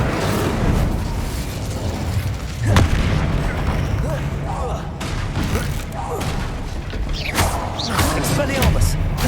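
Incendio fire spells cast in Hogwarts Legacy inside Horklump Hollow cave, with loud blasting bursts over a dense, constant roar of game effects and music.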